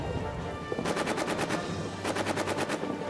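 Rapid machine-gun bursts rattle in the trench warfare video game All Quiet in the Trenches, two quick volleys of sharp shots separated by a short pause over a constant rumbling battlefield background.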